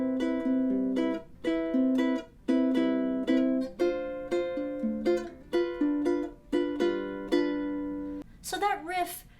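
Intro riff of a song played in low G tuning, likely on ukulele: a repeating pattern of plucked, ringing note clusters in even phrases, close and clear, ending with a brief voice.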